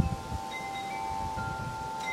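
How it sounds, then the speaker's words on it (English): Steady outdoor wind buffets the microphone with a continuous low rumble, loud and close throughout, with no voices. "It's a little windy out here"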